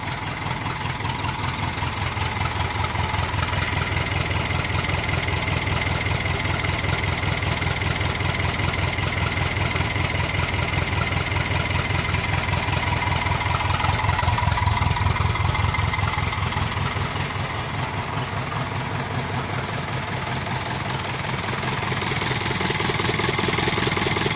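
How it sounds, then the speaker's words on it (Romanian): A Fiat 615 tractor engine idles after a rocker-arm valve adjustment, a steady loud rumbling chug with a fast even rhythm that runs on alone for the full stretch, with no one speaking. "pare să meargă destul de ok tractorul."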